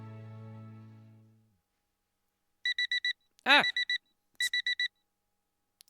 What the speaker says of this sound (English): I wake up right as my alarm clock goes off.